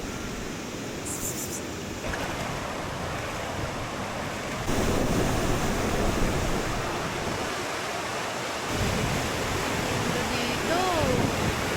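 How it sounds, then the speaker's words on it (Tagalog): A stream flowing steadily nearby, its broad, even rush of water running throughout while people talk over it. "Naririnig ko na yung batis."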